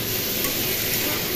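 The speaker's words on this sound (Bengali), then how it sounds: "এদিকে কুমড়ো আলু ভাজা হচ্ছে কালো জিরে ফোড়ন দিয়ে" Pumpkin and potato fry in a pan tempered with black cumin, giving a steady, loud, close sizzle that runs unbroken throughout.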